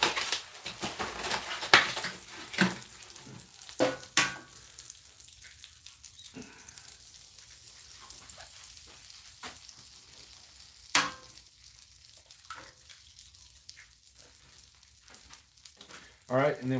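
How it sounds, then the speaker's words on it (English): An egg frying in butter in a pan gives a faint, steady sizzle, broken by occasional sharp clinks and taps of utensils against the pan. "Put a little butter in there. And I'm just going to crack the egg right in there."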